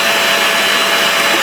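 Carpet injector-extractor working over car seats and carpet, a loud, continuous vacuum-like suction roar held steady and close throughout.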